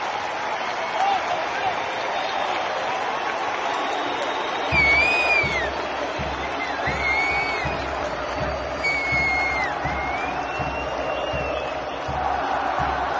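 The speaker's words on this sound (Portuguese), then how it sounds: "A torcida do Vasco agora aplaude." Vasco football fans fill Maracanã stadium with a steady roar of crowd noise and cheers, shrill whistles cutting through, and a deep rhythmic thumping joining in partway through.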